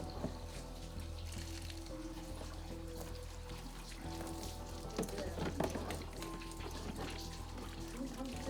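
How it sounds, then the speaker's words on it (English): Water gushing from an open pipe during a live toilet fill-valve connection, splashing partly into a yellow bucket; a steady, fairly quiet rush with clattering handling noises through it. "My yellow bucket was catching some, but not all of the water."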